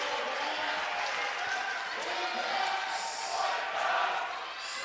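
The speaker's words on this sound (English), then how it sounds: "Crowd getting into it now." Indoor crowd at a college volleyball match between Alaska and Saint Martin's, a sustained roar of cheering that swells toward the end, with a commentator talking over it.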